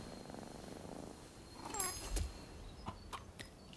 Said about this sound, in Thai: เจ้าเหมียว